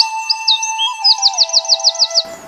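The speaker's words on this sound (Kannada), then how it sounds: "ಆಫ್ರಿಕನ್, ಜಾವಾ, ಫಿಂಚ್ ಹೀಗೆ ಮನಸೆಳೆಯುವ ವಿವಿಧ ಬಗೆಯ ಪಕ್ಷಿಗಳು" Finches, such as African and Java finches, chirp in a pet shop, giving quick repeated bright trills and tweets over a steady background hum that cuts off at the end.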